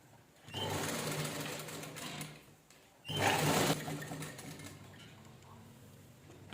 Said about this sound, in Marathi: आपण गळ्याला स्टिच करूया